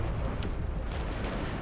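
Grenade blast in the shooter game Shoot Da Gitz, a dense low rumbling boom sustained and moderately loud, with crackling debris above it.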